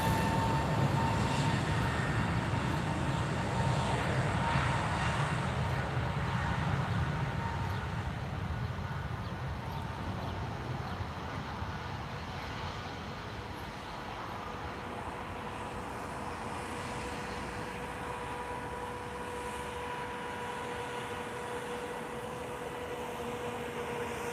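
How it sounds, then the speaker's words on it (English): An Airbus A321neo airliner takes off at Lisbon Airport, a broad distant jet roar that swells early on and then slowly fades as it climbs away, with no talking. "A321 Neo taking off."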